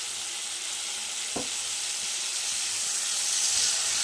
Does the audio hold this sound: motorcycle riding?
no